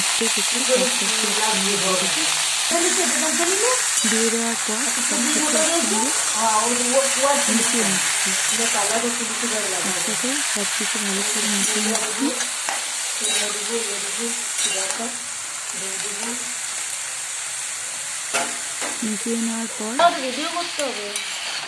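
Cauliflower with eggplant, tomato and capsicum frying in oil, a steady sizzle running throughout with stirring scrapes while a voice talks over it.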